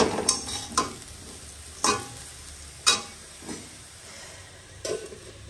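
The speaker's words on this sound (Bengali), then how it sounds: "এদিকে আমার আলু ভাজা পুড়ে যাবে" Potatoes frying in a pan give a soft background sizzle, broken by a handful of sharp spatula scrapes and clanks spaced irregularly, close by.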